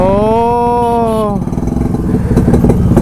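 A Yezdi Roadking motorcycle passes on a rural road, its loud engine note dropping in pitch as it goes by, then settling into a close, thumping rhythmic idle-like putter that swells again toward the end.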